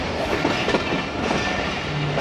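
A relief train rolls through a Faisalabad station platform, its wagons giving a steady rumbling clatter with faint clickety-clack over the rails, continuous and fairly close throughout.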